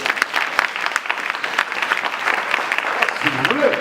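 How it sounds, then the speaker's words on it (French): An audience at a Bible teaching session claps and cheers, a dense burst of applause that carries on steadily, moderately loud, with a voice rising near the end. "Si vous voulez acclamer, il faut acclamer."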